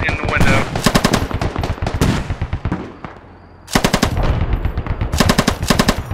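A PKP machine gun in the shooter Squad hammers out long rapid bursts, loud and close, with a brief pause mid-stretch before firing resumes in a steady rattling stream.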